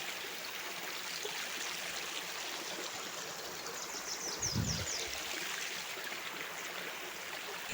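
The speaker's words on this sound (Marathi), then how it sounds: "इकडे पाणी आहे ओढ्याला" Water runs steadily through a small hillside stream in rainy Konkan countryside, a constant broadband rush with no talk, and one brief low thump just past the midpoint.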